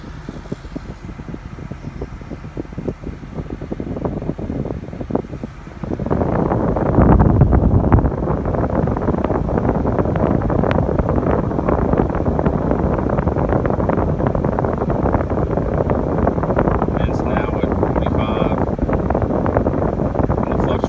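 Air conditioning blowing steadily from the dashboard vent of a 2000 Toyota 4Runner, a broad continuous rush that grows louder midway as the airflow is moved to another part of the vent, with faint buffeting.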